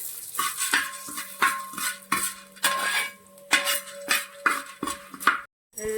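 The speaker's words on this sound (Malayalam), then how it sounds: "നമുക്ക് പൊട്ടുകടല വറുത്ത് പോരാം." Roasted gram (pottukadala) being roasted and stirred in a pan: repeated metal scraping and clinking of a spoon against the pan in a steady rhythm, close and fairly loud, with a faint sizzle underneath and no talking.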